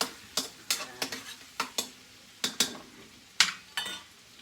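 Chicken sisig fries in a pan while being stirred, sharp scraping stir strokes landing in irregular bursts over a soft, quiet sizzle.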